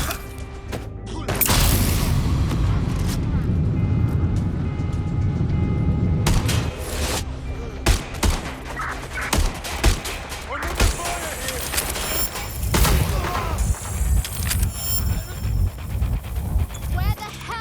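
Gunfire in a Watch Dogs street fight involving Aiden Pearce and Clan Kelley, with sharp shots scattered irregularly amid crashes, thuds and busy game noise, while voices shout over it.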